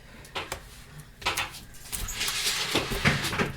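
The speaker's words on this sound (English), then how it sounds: "Open the back door, please." A door is handled indoors at home, with a few knocks and clunks followed by a longer rattling and scraping stretch as it is opened, close and moderately loud.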